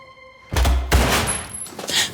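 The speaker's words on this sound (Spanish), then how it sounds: "Ese fue un disparo." A gunshot in a dramatic scene: a loud booming blast followed by a second heavy report and rumbling echo, close and forceful, with a high tone briefly over it.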